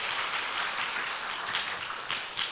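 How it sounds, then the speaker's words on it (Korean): A crowd applauds warmly at a televised small-business showcase in Korea, a dense, steady wash of clapping from many hands filling the room without pause. "큰 박수로 맞이해 주십시오."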